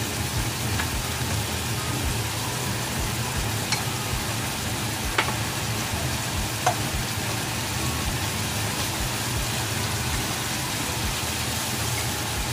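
Beef for bistek frying in a pan, a steady dense sizzle running unbroken and fairly loud throughout, with a few faint ticks and pops scattered over the hiss.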